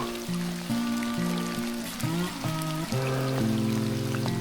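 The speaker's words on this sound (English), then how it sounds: "it's pouring down the rain" Heavy rain pours down on a wet-weather off-grid cargo trailer camping trip, a steady close wash of noise beneath prominent humming, shifting tonal sounds, with no talking.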